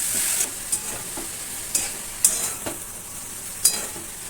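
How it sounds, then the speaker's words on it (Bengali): Egg, onion and bottle gourd fry in a pan: a moderate steady sizzle punctuated by several sharp spatula scrapes and clinks at irregular intervals, nearby with no speech. "ডিমটা দিয়ে পেঁয়াজটার সঙ্গে নেড়ে নেবো"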